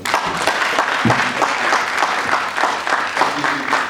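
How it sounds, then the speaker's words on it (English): Scattered, modest clapping from a small group at a parliamentary caucus gathering in Ghana, uneven and patchy, with a voice speaking over it. "Small hands of applause."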